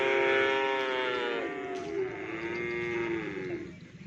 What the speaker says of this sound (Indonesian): Banyak sapi yang baru datang kayak gini.